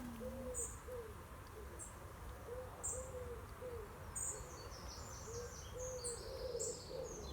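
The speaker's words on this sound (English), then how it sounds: "There's a couple of owls about, tooting." Owls hoot repeatedly around a public campsite in the quiet before dawn: soft, evenly spaced calls at moderate distance over a steady low background hum, with no talking.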